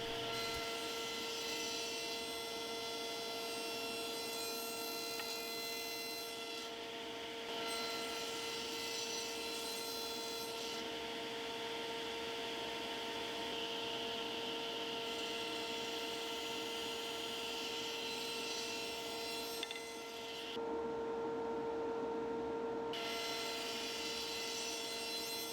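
A power saw cuts wood for a picture frame on a saw sled, giving a steady, loud whine and rasp that runs almost continuously and breaks off briefly near the end before resuming.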